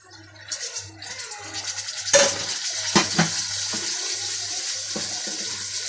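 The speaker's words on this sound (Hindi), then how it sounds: "अब हम इसमें टमाटर डालते हैं" Tomatoes go into a pan of frying chicken, with a steady hiss and sizzle broken by several scraping and clattering stirs against the pan, close and with no talking.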